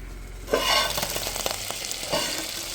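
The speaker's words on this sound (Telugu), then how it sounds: "అదిగోండి చికెన్ అలా ఉడుకుతుంది కదా" Chicken cooking in a pot for homemade biryani, a steady close sizzle and bubble with stirring scrapes and clatters, two sharper bursts where the food is moved.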